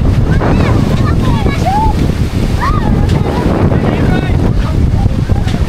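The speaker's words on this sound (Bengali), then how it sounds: "প্রচন্ড বাতাস, ঝড় তুফান অলরেডি শুরু হয়ে গেছে।" Strong storm wind roars and buffets the microphone continuously by the Sandhya riverbank, with people talking underneath the gusts.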